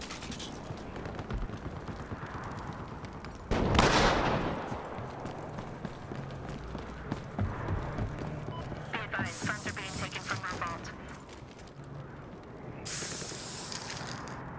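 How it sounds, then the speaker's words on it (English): Incendiary grenade thrown during a Battlefield Hardline match, landing with a loud broadband whoosh and burst, then sustained hissing flame and clattering bursts of game noise amid gunfire-like cracks. "Throwing incendiary!"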